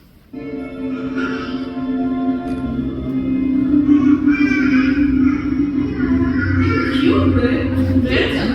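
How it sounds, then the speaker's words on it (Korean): A recorded cat's voice played aloud at a film talk event, a drawn-out tonal vocal sound with shifting pitch that carries on steadily and grows a little louder, with faint murmurs around it. "우리 고양이 소리? 네, 고양이 목소리입니다."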